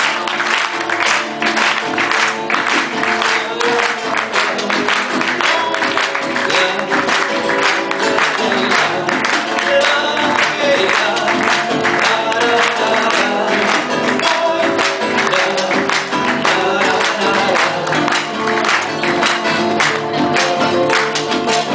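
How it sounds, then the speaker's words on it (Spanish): Audience clapping steadily in time with a live folk song in Spanish, with dense rhythmic palmas filling the room over singing and instruments throughout. "Necesito palmas, ¿eh? Esto va con palmas"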